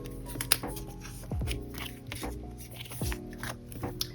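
Photocards are handled and flipped in a binder, with soft papery rustles and light plastic-sleeve flicks, close and quiet, with no talking.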